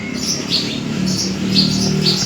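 Sparrows chirp in short, bright bursts repeating every half second or so, close by against a faint background hum.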